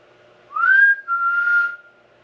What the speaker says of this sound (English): I'm gonna whistle if you could try to whistle back.